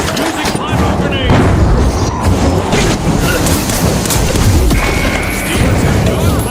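A pyro grenade goes off in a video game, heard as a loud, dense blast with crashing debris that holds steady for several seconds. Talk runs over it throughout.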